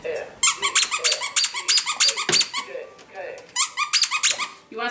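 A plastic squeaky toy shaped like a raccoon is squeezed over and over in fast, bright bursts of squeaks, with short pauses between them, at a family Christmas gathering.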